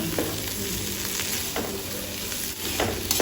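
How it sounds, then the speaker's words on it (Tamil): Potatoes roasting in oil over a medium flame and being stirred, with a dense steady sizzle and a few spatula scrapes at intervals, close and fairly loud with no voices. "நல்லா ரோஸ்ட் ஆகிற வரைக்கும் மீடியம் ஃப்ளேமில் வச்சு கிளறிட்டே இருங்க"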